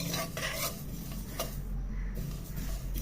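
Flax seeds, white sesame and pumpkin seeds dry-roasting in a pan, stirred with soft scraping and faint crackle under a steady background hiss, close and quiet.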